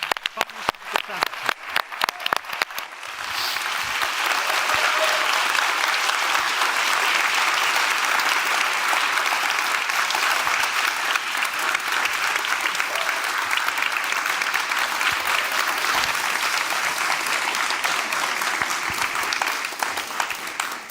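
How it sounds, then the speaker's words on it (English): Audience applause at the Global Solutions Summit 2023, a dense and steady sustained clapping from a large crowd that lasts about twenty seconds, preceded by a few scattered individual claps at the start. "I'm going to ask everyone to give them another round of applause"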